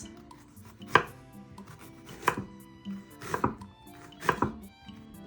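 Knife chopping thin slices of red and sweet Vidalia onion on a board, four distinct sharp chops spaced about a second apart, close and clear with no talking.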